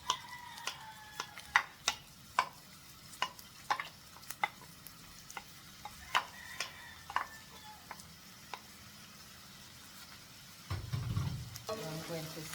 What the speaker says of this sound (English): I'm going to saute this for a while.